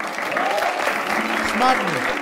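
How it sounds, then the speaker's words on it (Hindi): Audience clapping fills the space, a steady patter of applause with cheers mixed in. "तालियां इसके लिए।"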